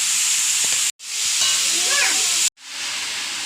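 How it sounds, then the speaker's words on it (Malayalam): Washed cabbage goes into a hot pan for cabbage upperi, a loud, steady hiss and sizzle that cuts out briefly twice, with a soft voice talking underneath. "കഴുകി വെച്ച കേബേജ് ഇടുന്നു"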